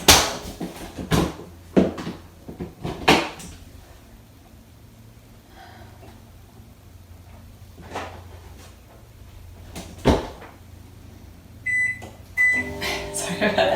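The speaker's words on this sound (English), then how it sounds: "I'll just pop this in the microwave for 10 seconds" A kitchen microwave oven warms a cake drip for a vegan cake over a steady low hum, with door and handling knocks, a few beeps near the end, and a person talking throughout.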